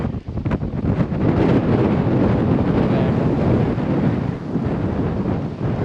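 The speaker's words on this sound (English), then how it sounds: "It's gotten really windy." Loud, gusty wind roars across the microphone in a constant rushing buffet, broad and rumbling with no pauses, on the Sabine River as a storm rolls in.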